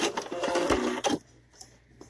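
A sewing machine stitches a fabric strap in a rapid close whirring run that stops abruptly partway through, leaving only quiet background and a faint click.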